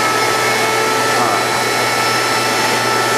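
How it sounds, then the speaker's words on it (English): A sandblaster's vacuum runs steadily, a loud continuous broadband whine and rush that holds without pause throughout, close to the microphone. "I'm guessing that the vacuum's got to be on."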